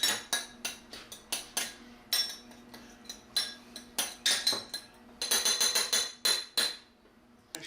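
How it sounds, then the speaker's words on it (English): Barbecue sauce and ingredients being stirred together for a crustless pizza, heard as a close run of quick clinks and taps of a utensil against a dish, with brief pauses, and no talking. "I stir them all together so they're nicely mixed up."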